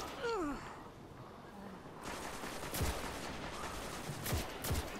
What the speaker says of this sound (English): This rocket launcher stinks. Its blast radius is so small.